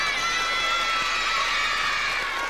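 Studio audience applauding at a children's song contest final on Italian television, a steady, dense wash of clapping filling the whole stretch, loud and close with no break and no voices on top.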